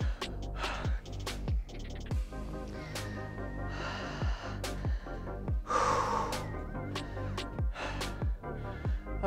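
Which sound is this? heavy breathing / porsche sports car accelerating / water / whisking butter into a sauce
heavy breathing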